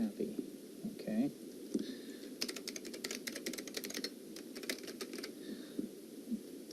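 Someone types a password on a computer keyboard: a quick run of crisp key clicks in the middle, with a few scattered taps before and after and a faint low murmur underneath.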